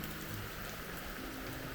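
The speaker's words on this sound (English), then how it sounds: "And now it's starting to rain." Rain patters down steadily in a Panama forest, a dense, even hiss without distinct drops and no voices present.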